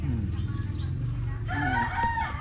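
A fighting rooster crows close by on a rice farm, its drawn-out call rising over a low background rumble.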